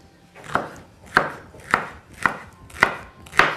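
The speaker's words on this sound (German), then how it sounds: "Ich nehme jetzt, was ich habe, schneide es, tue es auf dieses weiße Brett." Fresh ingredients chopped on a white cutting board for a quick spaghetti dish, with six evenly spaced, crisp knife strikes landing about every half second, close and alone.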